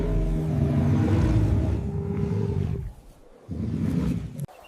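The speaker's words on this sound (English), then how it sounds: "With a soft roar, the king greets the dawn." A lion gives a soft roar at dawn, a deep rumbling call that swells loudly for a few seconds, breaks off, then resumes more briefly with a low growling tail.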